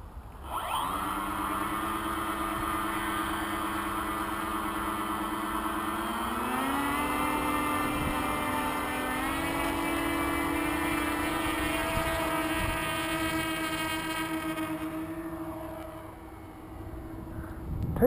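Electric motors of a large FPV Adventurer V7.0 model aircraft on takeoff, a loud, close, steady buzzing whine with strong tones that rise in pitch as power increases, then hold before fading slightly.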